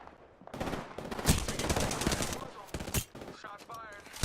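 Gunfire in the video game Apex Legends, dense bursts of rapid shots and automatic fire crackling for several seconds, loud and close, with game voice callouts mixed in.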